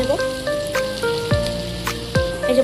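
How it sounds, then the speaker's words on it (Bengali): Spice-coated potatoes fry in oil in a kadai, giving a steady, soft sizzle and crackle beneath louder tonal sounds and some talk. "আলুটা একটু ভালো করে ভেজে নেব।"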